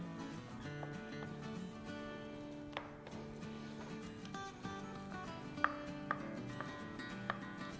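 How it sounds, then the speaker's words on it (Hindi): A knife cuts a sponge cake into large chunks for a trifle custard, giving a few sharp taps and thuds against a board over steady background music. "इसको अब हम पीसेस में काट लेते हैं। बड़े बड़े चंक्स करेंगे।"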